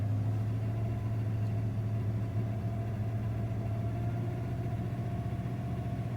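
A truck engine idles with a suspected vacuum leak, giving a steady low rumble with a constant hum and no change in pace, close and moderately loud with no talk over it.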